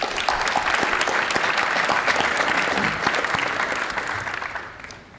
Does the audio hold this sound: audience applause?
yes